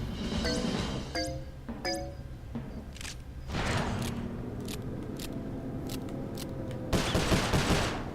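Gunfire in the Sly Cooper: Thieves in Time video game, with rapid bursts of sharp shots and pings over a dense game soundscape, a louder flurry near the end.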